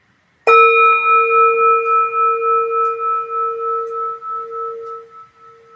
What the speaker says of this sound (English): I'll ring the bell to signal the end of our sit.